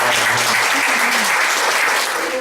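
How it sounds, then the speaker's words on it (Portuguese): A lecture audience claps steadily in a dense, loud burst of applause, with a few voices briefly audible underneath at the start. "nesse momento queria uma salva de palmas."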